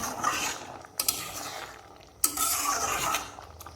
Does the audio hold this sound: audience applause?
no